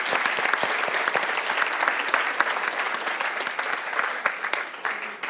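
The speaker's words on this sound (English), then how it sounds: "one more round of applause for those of you who are not staying" Conference audience at a TB nursing session claps in a dense, steady round of applause, many hands at once, close and even in loudness from start to finish.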